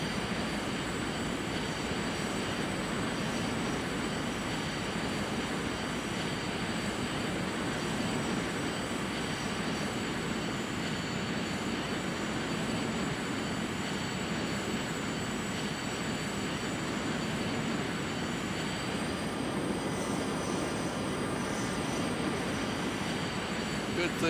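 A T-33A jet's engine runs in a flight simulator as a steady, loud broadband roar with a faint high whine that holds for the whole stretch, with no speech over it.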